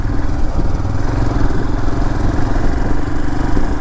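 A motorcycle engine runs steadily during a test ride, a continuous loud mid-pitched drone with a faint mechanical clatter, close to the microphone and with no talk over it.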